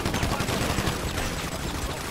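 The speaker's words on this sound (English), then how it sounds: "I'm shooting at everything." Rapid gunfire fills a chaotic GTA V online multiplayer firefight, a dense, continuous burst of shots with no break in the noise for its full length.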